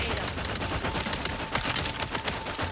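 Rapid gunfire from a weapon in the video game The Outer Worlds 2, a dense, steady stream of sharp repeated shots running through the whole stretch at close range, with no voice over it.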